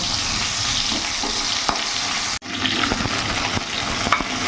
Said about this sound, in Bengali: ভালো করে নাড়াচাড়া দিয়ে কিছুক্ষণ ভাজা ভাজা করে নেব।